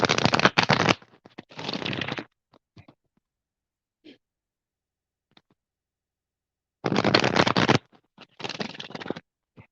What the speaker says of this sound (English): I'm just shuffling out all my cards real quick.